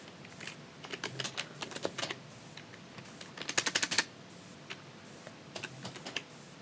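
Computer keyboard typing in quick clattering bursts of keystrokes, a dense flurry in the middle and sparser taps toward the end, close and fairly quiet with no talk.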